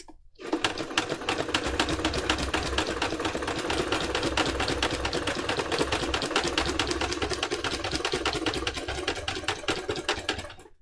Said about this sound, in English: I'm going to sew around the outside